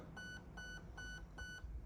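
Four short, evenly spaced electronic beeps come from an airsoft HAL MOSFET/ETU in programming mode. The tones are faint, high and clean, with brief gaps between them.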